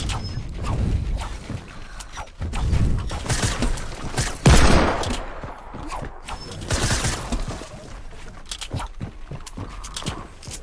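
Rapid bursts of gunfire in a shooter video game with a scoped revolver and SMG, crackling shots coming in uneven clusters, several loud, over a busy mechanical background with no speech.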